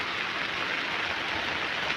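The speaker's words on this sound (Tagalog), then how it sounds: "Lakas na ng ulan." Heavy rain pours steadily during a fishing trip in a boat, a dense continuous hiss close and loud throughout, with no voices.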